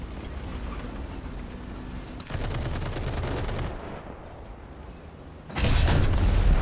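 Heavy .50 cal machine gun fire from an M4A3 (105) tank in War Thunder: bursts of rapid shots at mid distance, with a louder, denser burst near the end and short pauses between.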